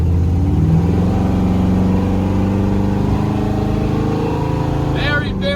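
A 1967 Chevrolet Camaro engine runs steadily at a loud, rumbling idle with a deep, even low pitch, ending in a short sharp blip near the end.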